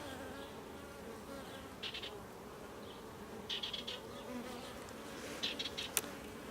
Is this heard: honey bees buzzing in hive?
yes